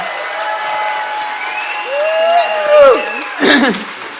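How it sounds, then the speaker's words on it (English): An audience at a presentation event gives a big round of applause, with clapping and voices that build and swell in two loud bursts. "Let's get another big round of applause for Gary."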